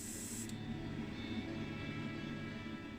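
An airbrush sprays paint onto a Matchbox Series No 27 Mercedes 230SL model car, a steady close hiss that runs alone the whole time with a brief sharper burst near the start.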